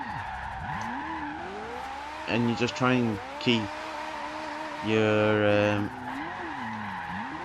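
In Forza Horizon 2, a Ferrari F40's tires squeal in several bursts while it drifts freestyle, over a revving, wavering engine, with someone talking over the driving.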